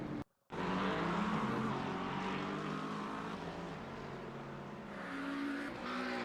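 Race cars roaring past one another in a sim racing game replay, with a sustained loud engine drone, shifting pitch and a brief dropout near the start.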